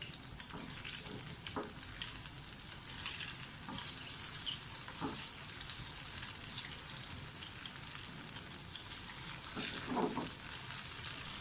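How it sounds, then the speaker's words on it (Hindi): Steady, dense sizzling and crackling of whole chilies frying in hot oil for a kadhi pakora tempering, continuous and close, with occasional sharper pops. "तड़का बिल्कुल रेडी हो गया है, अच्छी तरह से फ्राई हो गया सारा कुछ।"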